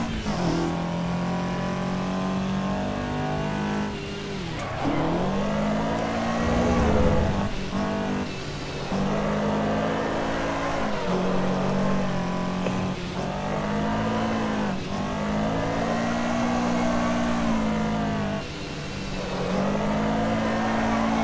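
Race car engine in the Assetto Corsa EVO racing game, revving high and dropping repeatedly as the car is thrown into handbrake drifts, with brief dips at each shift or slide and faint tire noise, loud and steady throughout.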